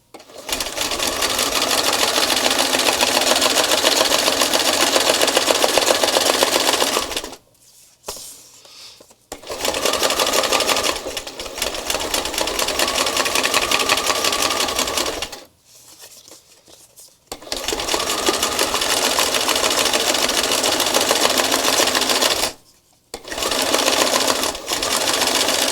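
A sewing machine stitching through a paper art journal page, loud, close and continuous whirring in long runs broken by a few short pauses.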